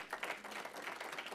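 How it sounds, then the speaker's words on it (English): A quiet round of applause at a Rotary club meeting honoring a Citizen of the Year, steady soft clapping from a small crowd heard at a distance. "If we can have a nice round of applause for him."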